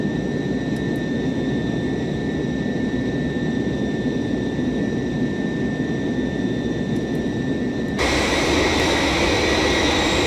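Ilyushin IL-62 jet engines in Flight Simulator X produce a steady, dense roar with a high whine on top; near the end the roar abruptly shifts, turning brighter and slightly louder as the throttle setting changes.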